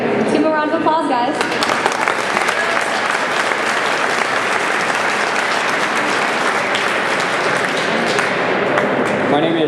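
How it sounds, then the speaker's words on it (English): Loud sustained applause fills a state capitol rotunda at a cannabis rally, with a brief voice at the very start before dense clapping carries on evenly for several seconds. "Let's give him a round of applause, guys."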